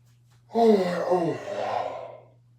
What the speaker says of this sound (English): Hold on, I got another yawn.